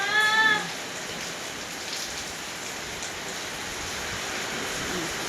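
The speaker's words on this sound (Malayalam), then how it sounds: "പുറത്ത് ഇതാ നല്ല കാറ്റും മഴ കേട്ടോ" Steady rain and wind outside a house veranda (kolaya) with plants, a broad continuous wash of falling rain heard from indoors, preceded by a brief harmonic cry at the very start.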